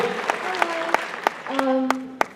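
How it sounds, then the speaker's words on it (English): A convention panel audience gives a quick round of applause, spaced claps ringing out while a voice speaks over them in the foreground. "Big round of applause, right?"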